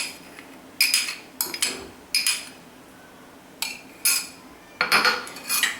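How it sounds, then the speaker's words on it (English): Two eggs are gently whisked in a bowl, heard as irregular bursts of close metallic clinking separated by short quiet pauses. "I'll just gently whisk them"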